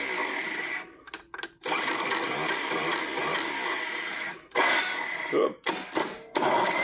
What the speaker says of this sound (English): now the starter motor works.